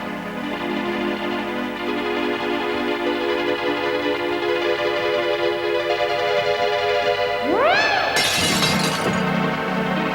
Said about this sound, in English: He dropped plates beside a tape recorder to record the sound of them smashing.